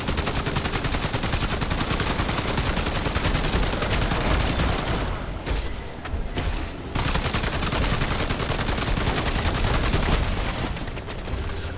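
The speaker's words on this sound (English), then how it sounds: "Shoot him, sentry gun." A sentry gun in Modern Warfare Zombies rattles off sustained automatic fire, loud and continuous with only a brief lull in the middle.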